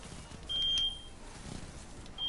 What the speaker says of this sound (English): Is it a fire alarm?